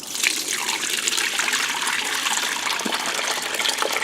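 Whey and curds for mozzarella pour through a mesh strainer in a steady, close gushing trickle of liquid that runs continuously for a few seconds.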